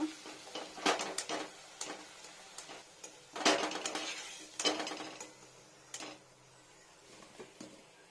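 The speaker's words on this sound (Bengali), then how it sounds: "আলুটা ভাজা হয়ে গেছে এবার আলুটাকে ছেঁকে তুলে নেব" Fried potatoes scooped and strained out of hot oil with a metal utensil, giving a series of sharp clinks and scrapes against the pan at irregular intervals, with quieter rattling between them.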